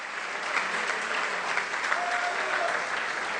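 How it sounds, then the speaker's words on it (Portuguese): A church congregation applauding, dense sustained clapping filling the room at an even level, with faint crowd murmur mixed in beneath the steady wash. "E a congregação aplaude a Jesus Cristo"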